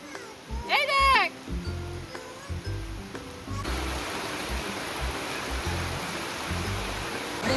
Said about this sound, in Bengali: বৃষ্টিটা আরো জোরে এলো।